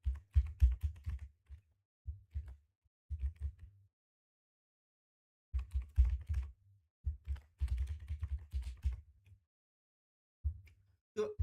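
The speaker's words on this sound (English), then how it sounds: "Let me type the name." Bursts of typing on a computer keyboard during a Pytest tutorial, several quick clusters of close, clicky keystrokes separated by short silent pauses.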